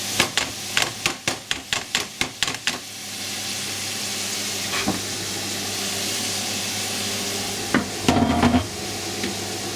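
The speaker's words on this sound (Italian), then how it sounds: "Quindi andremo ad aggiungere le nostre fave" Frozen fava beans tipped into a pan of sautéing carrots, celery and leek, starting with a quick run of close rattling taps, then settling into a steady sizzle with a few utensil knocks.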